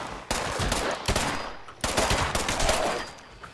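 Weak pipe pistol fire from enemies in a video game, a rapid, loud burst of gunshots running almost continuously, with a short break in the middle.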